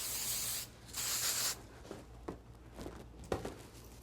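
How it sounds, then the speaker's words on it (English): Hairspray hisses onto hair in two close, bright bursts, the first brief and the second longer, followed by soft rubbing and brushing sounds. "Spray it."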